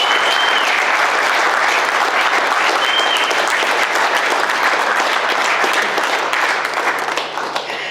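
Sustained, dense applause from a group at a company meeting fills the whole stretch, loud and steady before easing slightly at the end.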